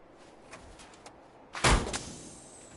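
A door in Fallout 4 slides or swings with a heavy mechanical clunk and thud, preceded by a few faint clicks and followed by a short rumbling tail, loud and close.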